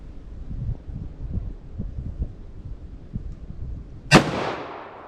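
A single full-power 10mm revolver shot fired single action over a chronograph, one sharp loud crack with a decaying tail after several seconds of low background rumble.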